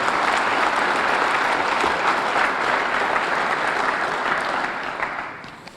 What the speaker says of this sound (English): How about a nice round of applause for all the guys tonight?